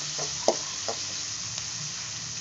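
Squid gravy base frying in a pan with salt is stirred, a steady soft sizzle broken by a few sharp scraping clinks of the spoon against the pan.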